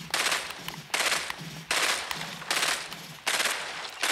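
Gunfire in Fortnite, five short, loud bursts of rapid automatic shots spaced at roughly even intervals, close and clear with no talking over them.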